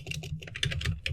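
Rapid keystrokes on a computer keyboard while entering Linux terminal commands, a steady close run of light clicks with no pauses and no voices.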